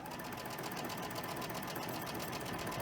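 A sewing machine chain stitches quilt block pieces together, giving a fast, continuous mechanical whir with a rapid, even rhythm close by.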